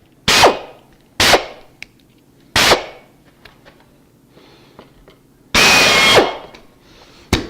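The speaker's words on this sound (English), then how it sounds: "Now let's see what we got to drill it." A power drill fires in short sharp bursts against a Jeep rock crawler part, three quick whirring jabs followed by a longer sustained run, loud and close with quiet pauses between.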